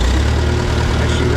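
A Farmall Super C tractor engine runs at a high, governed idle, a steady loud low rumble with no break, heard close up.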